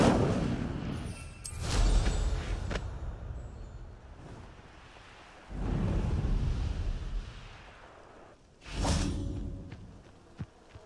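A fire spell cast in Hogwarts Legacy: three loud whooshing, booming bursts of flame, each swelling and fading over a couple of seconds, with a short sharp crack near the end.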